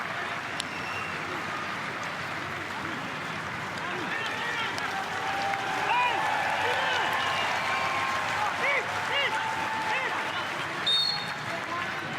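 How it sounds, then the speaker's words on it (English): Broad crowd applause swells through a football stadium during an A-League match, steady and dense, with a commentator talking over it. "round of applause from the gallery for his contribution"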